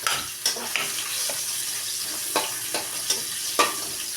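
Garlic and onion sautéing in annatto oil in a pan. A continuous hiss of frying sits under a handful of sharp spatula scrapes and clinks spread through the clip.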